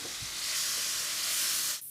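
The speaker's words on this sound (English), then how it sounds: "Now, then I add the tomato puree." Tomato puree hits a hot pan of browned ingredients for pasta alla ladra, setting off a loud, steady hissing sizzle close by that runs on for nearly two seconds before cutting out abruptly.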